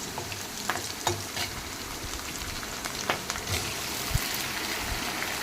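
Sliced onion, tomato and curry leaves frying in a pan for puffed rice uggani, a steady crackling sizzle with occasional stirring clinks and scrapes.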